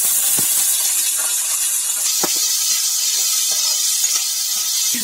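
Chopped onions sizzle in hot oil with roasted peanuts for Mumbai-style kanda poha, a loud steady bright hiss held throughout, close up, with a few soft clicks and no talking.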